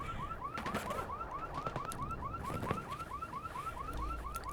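Alarms wail in the video game Escape from Tarkov, a repeating chirping electronic whoop cycling about twice a second, with scattered clicks and thuds underneath.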